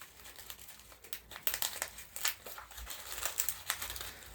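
Crinkly plastic packaging of white peony tea being torn and opened by hand, with irregular crackling bursts and rustles at close range.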